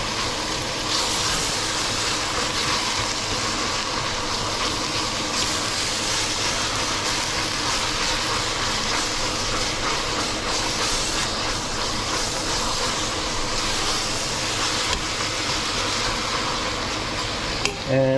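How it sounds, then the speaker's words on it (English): Ground mince sizzling and frying in a hot pan, a steady, dense hiss that runs unbroken and fairly loud throughout, with no talking over it. "I'll just fry or saute these up as well."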